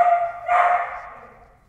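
Two sharp barks from a dog nearby, loud and alone, the second trailing off in an echoing decay.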